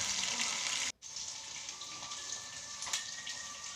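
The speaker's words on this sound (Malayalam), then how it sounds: "നമ്മളുടെ ചിക്കൻ ഫ്രൈ ആയിട്ടുണ്ട്" Masala-coated chicken pieces deep-frying in oil for a homemade biryani make a continuous close crackling sizzle. It cuts out briefly near the start, then resumes with occasional louder pops, and no one speaks.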